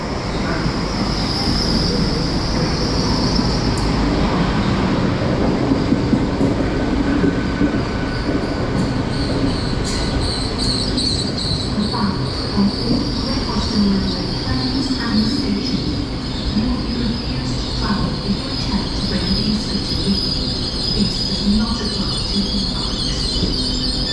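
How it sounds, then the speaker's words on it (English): A Great Western Railway train from London Paddington to Bristol Temple Meads arriving at Bath Spa station, with a loud continuous rumble of wheels on rails, high squeals and brake hiss close by throughout. "arriving in now is 14:51, Great Western Railway service to Bristol Temple Meads from London Paddington"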